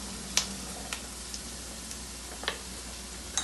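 Carrots dropping into a pan of oil and lamb fat with sautéed onion, giving a faint steady sizzle broken by a few soft clicks and taps of stirring.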